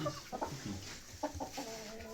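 Chickens clucking nearby in short, scattered bursts over a steady background hum, with a few higher calls mixed in.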